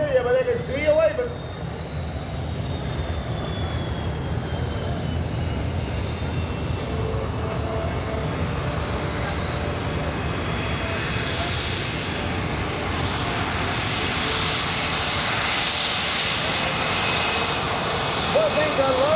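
Droning piston engines of a B-25 Mitchell bomber on an airshow flyby, a steady loud roar that swells gradually and holds throughout.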